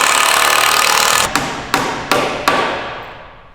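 Four sharp hammer blows nailing in a Land Rover workshop land in a slow, even rhythm, close and loud, ringing briefly after each strike over a fading background hiss.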